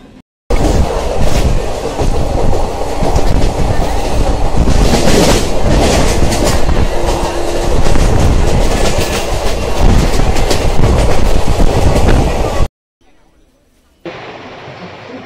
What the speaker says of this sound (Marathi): आपली कोयना एक्सप्रेस आलेली आहे, ऑन टाइम आहे आपली 9:13ला। आता ही ट्रेन पकडू आपण लोणावळ्याला जाऊ।